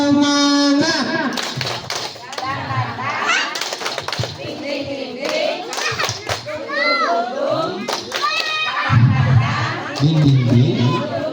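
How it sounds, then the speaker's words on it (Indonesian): A group at a community outreach meeting in Kampung Ciomas Tengah, Tegalpapak village, Pagelaran, performs a rhythmic spirit clap: sharp claps in a patterned sequence, with voices calling and chanting between them. "Tepuk semangat"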